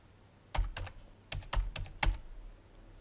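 Quick bursts of typing on a computer keyboard, several crisp key clicks in short clusters, close and distinct against a quiet background with no speech.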